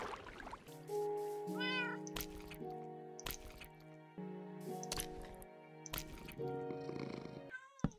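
A cat in the Minecraft 1.16.4 survival game meows and purrs, with several short meows rising over sustained tonal game sounds and scattered clicks.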